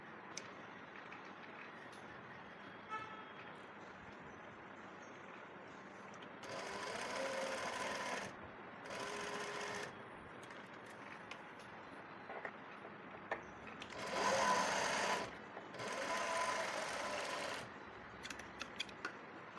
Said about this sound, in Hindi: जहाँ पर हमने निशान लगाया है वहीं पर सिलाई लगाते हुए नेक पर सिलाई लगा देंगे।